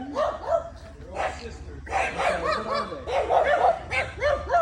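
Several dogs bark and yip busily, overlapping in quick, excited bursts, loud and close, with people talking underneath.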